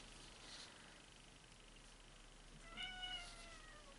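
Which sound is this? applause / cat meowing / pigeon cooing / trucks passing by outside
cat meowing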